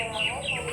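Birds call outdoors on an afternoon, giving a short burst of bright, overlapping chirps at moderate distance over a faint background.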